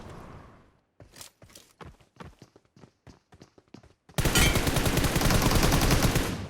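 Shooter video game gunfire: a string of separate sharp shots in an uneven rhythm, then a loud, continuous automatic spray that fills the rest of the moment up close.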